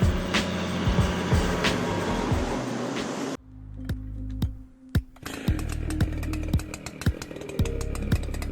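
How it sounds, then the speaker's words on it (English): A big STIHL MS 881 chainsaw with a long bar roars while cutting a tree, loud and steady at first, then after a brief drop it returns with sharp clunks and revving bursts. "Now here's a chainsaw that means business, the STIHL MS 881."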